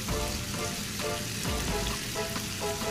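Adobo frying in a pan as vinegar goes in, giving a steady, close hiss and crackle of sizzling liquid with faint stirring scrapes throughout.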